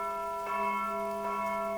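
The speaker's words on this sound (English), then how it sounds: "I think that's an alarm bell." Electronic alarm bell effect from a fantasy tabletop roleplaying game, a steady sustained ringing tone with layered harmonic hums, swelling twice in brief pulses, heard alone without talk.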